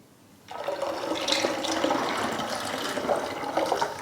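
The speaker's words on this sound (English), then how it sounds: "And putting 1 liter more water. 1 liter of filtered water again." Filtered water pours steadily into a cyser mix of apple and honey, a continuous close splashing stream that starts abruptly and runs alone without talk.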